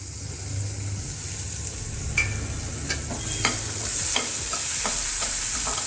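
Carrots frying in a pan for fried rice give a steady close sizzle, with a few sharp scraping clicks of a spatula stirring them and the frying growing slightly louder toward the end.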